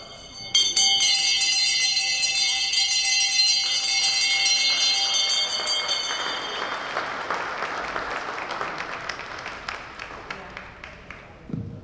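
A cluster of handbells rings together at a town crier competition, a bright, shimmering wash that swells quickly and slowly fades, with some rattling strikes scattered throughout.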